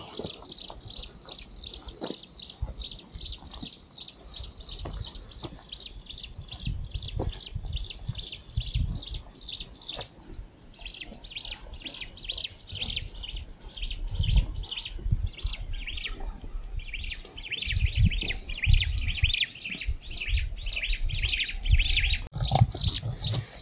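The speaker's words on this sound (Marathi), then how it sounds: "चांगल्या प्रकारे पक्ष्यांचे आवाज येतात" Birds chirp and trill almost nonstop in a rapid, high-pitched chorus at Malhargad hill fort near Pune, several calls overlapping against quiet open-air background noise.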